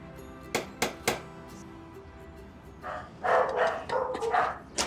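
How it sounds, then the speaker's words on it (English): Dogs bark inside a home, three sharp barks first, then after a pause a run of overlapping louder barking and yelps, fairly close. "The dogs are going at it."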